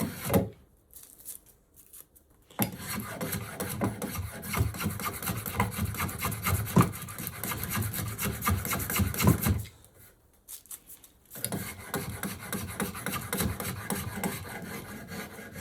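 A Kunz spokeshave with a wide mouth for heavy cuts takes wood shavings in rhythmic, close rasping strokes, loud and continuous through two long runs separated by brief pauses.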